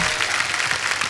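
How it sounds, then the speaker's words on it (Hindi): A studio audience at a Hindi comedy talk show claps loudly for a film being promoted; steady, dense applause throughout the brief moment, with no voices over it. "एक बार पिक्चर के लिए जोरदार ताली हो जाए।"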